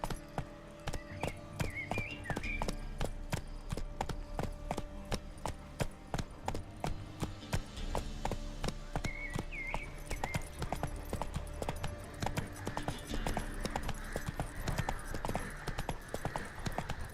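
Roach, the horse in The Witcher 3, gallops with a rapid, steady clip-clop of hooves that runs throughout. A couple of brief whinnies rise above the hoofbeats.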